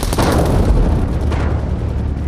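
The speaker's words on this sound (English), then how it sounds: "Jim hears the sound of heavy gunfire from behind the cabin." Heavy gunfire and artillery booming from behind a cabin amid a wartime battle, a loud, dense, continuous roar of shots and blasts with no pauses.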